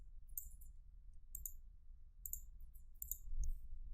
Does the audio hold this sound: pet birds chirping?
no